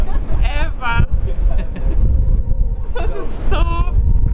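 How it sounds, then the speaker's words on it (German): Strong wind buffets and roars against the microphone throughout, with penguins nearby in South America and a person talking over it in short bursts. "Es ist ultra windig"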